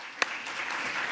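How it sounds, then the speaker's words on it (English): Conference audience applauding event sponsors, a soft, even spread of clapping with one sharp, close clap near the start. "Please give them a round of applause with me."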